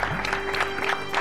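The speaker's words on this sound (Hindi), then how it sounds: "तालियां।" Studio audience applause on an Indian television game show, a short burst of clapping with steady rhythmic claps at moderate loudness for just over a second.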